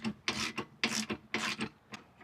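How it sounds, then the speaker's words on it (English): A wrench works loose a 14mm bolt on the rear shock mount of a 2011 Honda Fit, giving four close, rhythmic rasping strokes with short pauses between them. "there's just one 14mm bolt down here that we're going to take out"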